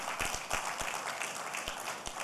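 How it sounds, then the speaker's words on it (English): Faint, distant applause from an audience at the Headies awards ceremony, a steady wash of many hands clapping with a few sharper individual claps standing out. "I think the Headies deserves a resounding applause"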